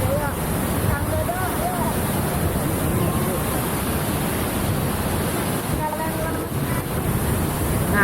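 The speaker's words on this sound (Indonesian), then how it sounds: "karena ini suara air terjunnya lumayan kenceng" Loud, powerful waterfall with a heavy water flow, a constant dense roar throughout, with faint voices underneath.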